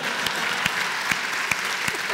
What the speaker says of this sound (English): it's true, you can clap.